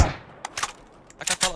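Gunshots in the PUBG video game, a few sharp cracks spaced apart, one at the start, then short bursts around the middle and end, with quiet gaps between.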